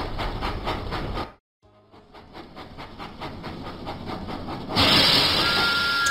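Thomas the steam engine puffs in a Thomas & Friends video game, rhythmic chuffing bursts with hissing steam and rail clatter, broken by a brief silence, then resuming louder with a bright hiss near the end.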